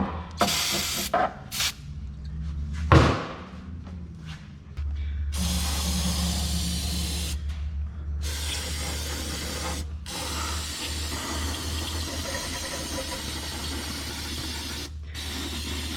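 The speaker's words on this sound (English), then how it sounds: "I'm going to be spraying outwards. Make sure that all this dirt goes out of the engine, not into it." Brake cleaner sprays in short bursts and then one long sustained hiss around the valve cover of a GMC Terrain engine, close and steady, with brief pauses between blasts.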